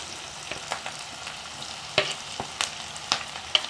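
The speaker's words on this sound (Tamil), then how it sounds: "துருவி வச்சுருக்கிற கேரட்டை நாங்கள் போடுறோம்." Grated carrot sizzles in a pan for chicken biryani under a soft, steady hiss, broken by sharp spoon clicks and scrapes as it is stirred.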